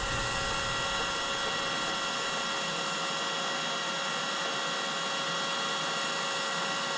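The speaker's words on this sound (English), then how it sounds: "The simple cordless heat gun isn't the best, but it works." A cordless heat gun runs steadily for the whole stretch, its fan giving a continuous loud whoosh with a faint high whine, while heat shrink tubing is shrunk over terminal ends during a power inverter install in a mobile mechanic service truck.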